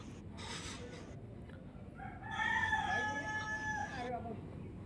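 Roosters crow at the Bahuchar Mata temple, one long drawn-out call rising above steady background crowd murmur and ambient noise, fairly close and clear, with a brief second crow trailing after.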